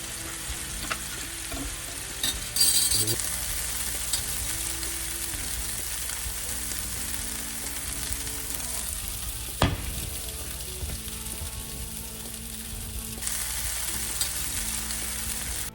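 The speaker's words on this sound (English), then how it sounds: "now that our broccoli is sauteed up" Broccoli sautéing in a hot pan, a steady close sizzle and crackle of frying that runs throughout with a few clatters of stirring.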